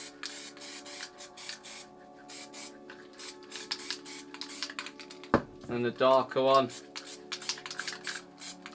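MTN water-based spray paint hissing from a can in short bursts, with a clicking cap and rattling can, while a person talks quietly over it.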